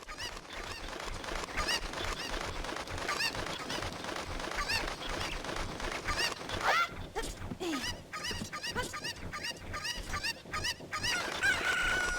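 Chickens clucking and squawking in Zelda: Ocarina of Time, repeated game-style fowl calls over busy background music and effects, with a rising crow-like cry partway through and a tonal chime near the end.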